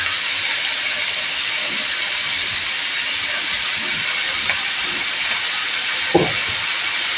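Curry leaves and mushrooms go into a pan of spluttering mustard seeds, giving a steady loud hiss of frying throughout with a few small pops and crackles, close and without talk.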